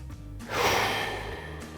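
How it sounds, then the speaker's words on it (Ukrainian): A single deep exhale, a long breathy rush of air that swells and slowly fades over about a second, close and alone with no talk. "Зробіть глибокий видих."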